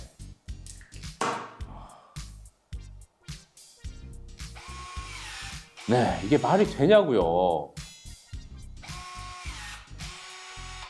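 A KLAUKE EKSD50ML battery-powered crimping tool pressing a ring terminal, heard as bursts of motor whine with clicks and a rising strain near the middle of the clip, up close, mixed in with talking.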